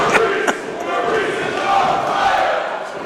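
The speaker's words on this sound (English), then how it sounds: "Listen to this crowd." Crowd at a live wrestling match roaring and cheering in a sustained wash of noise, with a couple of sharp thuds early on and a commentator's voice faintly underneath.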